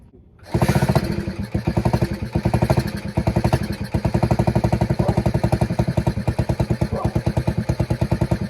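A Honda CT90 motorcycle engine with a fuel leak runs roughly. Its fast, uneven thumping exhaust pulses are loud and close, starting after a brief quiet moment and continuing without talk.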